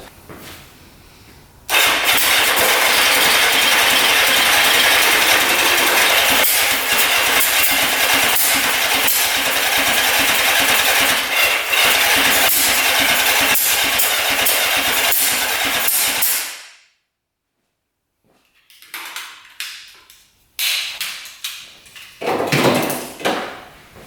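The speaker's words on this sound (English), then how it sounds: "backfiring out of the carbs. No good." A Suzuki Quadzilla quad fitted with a swapped 750cc engine backfires through its carburetors, producing a loud, rough, sustained roar peppered with pops. It cuts off abruptly, followed by scattered knocks and clatter.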